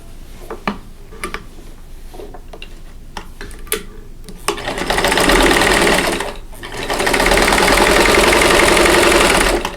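Sewing machine joining quilt sections for a sampler quilt top: scattered clicks and small handling taps first, then a loud steady motor whir in two long runs separated by a brief pause.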